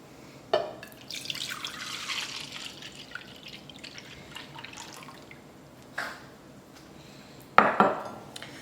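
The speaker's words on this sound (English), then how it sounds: "we are going to place our milk in a bowl here" Milk is poured into a bowl while a layered lemon dessert is prepared, giving a soft liquid splash with a few sharp clinks of a dish against the counter, close in a quiet kitchen.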